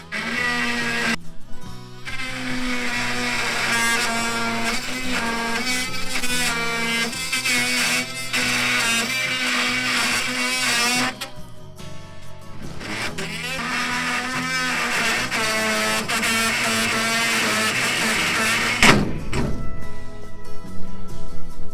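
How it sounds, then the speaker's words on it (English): A Ryobi One+ oscillating multi-tool cuts thick aluminum on a Harbor Freight greenhouse: a loud, close, harsh vibrating buzz runs in long bursts, broken by a couple of brief pauses, with a dull knock near the end. "This vibrating cutoff tool. This is a fairly thick aluminum, but it'll probably cut it with ease."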